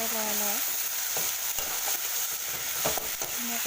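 Dhekia fern greens with a little turmeric sizzle steadily as they fry in a pan and are stirred, with a few soft scraping knocks from the stirring and no talking.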